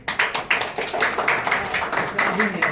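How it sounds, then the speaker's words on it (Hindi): Scattered hand claps from a small group of people during a school interview, a few sharp claps repeating irregularly over background chatter. "अभी नहीं, ताली मत मारिए।"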